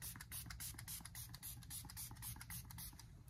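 Rapid bursts of D'Alba serum mist sprayed onto a face, a close series of soft pump hisses in quick rhythm, quiet and alone with no talking.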